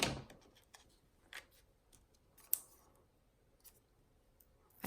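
Scissors snipping foam dimensionals for a handmade Christmas wreath card, a few quiet close crisp cuts with small rustles and clicks between them, no voices.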